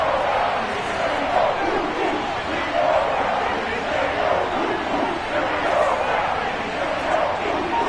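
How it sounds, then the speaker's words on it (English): Spectators at an American football game keep up a steady, broad crowd roar that swells slightly in places and holds at a moderate distance throughout. "Crowd getting in it a bit already"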